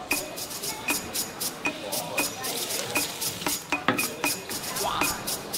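Food frying to order at a roadside stall in Yangshan, a soft sizzle under repeated clinking and scraping of a spatula against the pan at a brisk, irregular rhythm, close by.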